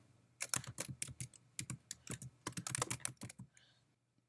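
Rapid bursts of key clicks on a computer keyboard while a page title and name are entered in a content management tool, irregular quick strokes close up and alone, stopping near the end.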